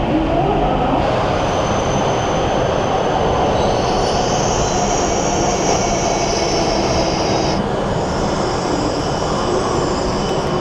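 A Tokyo-bound train pulls into a Japanese station, its wheels grinding and squealing loudly over a dense, continuous rumble that holds steady throughout.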